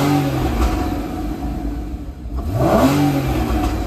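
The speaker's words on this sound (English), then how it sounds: "So let's just give her a little rev for you." A 2015 Porsche 981 Cayman's engine is blipped in a short rev that swells and falls, the note sweeping upward near the end, heard close with no voices.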